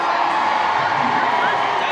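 Big stadium crowd at a Party Animals versus Texas Tailgaters game in Lehigh Valley, Pennsylvania, cheering loudly and steadily, a thick roar with occasional whoops rising above it.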